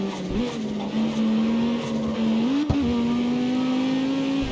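A tuned race car in CarX Street accelerates hard, its engine note holding a steady loud drone that climbs in pitch with a brief surge near the end, close and continuous with no talk.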